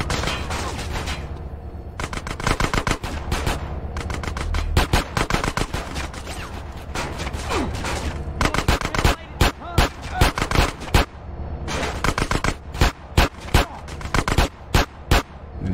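Gunfire from the video game GTA San Andreas crackles in rapid bursts and single shots, loud and close, with short gaps between volleys and a brief lull midway.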